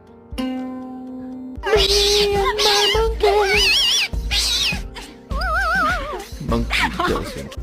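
A cat meows repeatedly in several drawn-out, wavering calls with short pauses between them, close and loud, over a steady low background hum.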